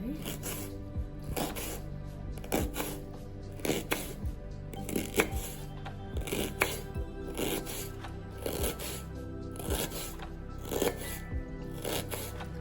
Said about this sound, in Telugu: ఆనియన్ కట్ చేసుకుంటున్నా